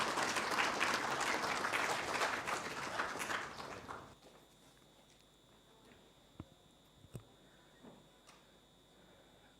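Audience applause welcoming a government minister at an exhibition inauguration, a broad wash of clapping that fades out partway, leaving a quiet room with a few faint taps and knocks.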